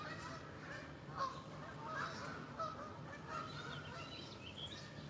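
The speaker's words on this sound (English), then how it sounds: "Look at all these geese coming in." Scattered goose honks ring out over a constant low outdoor rumble, some calls faint and distant, others a bit nearer.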